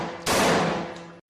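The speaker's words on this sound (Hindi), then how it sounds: "उन्हें गोली मार दी गई।" A single loud gunshot sound effect cracks sharply, then its broad blast rings on and decays over about a second before cutting off abruptly, with no voices.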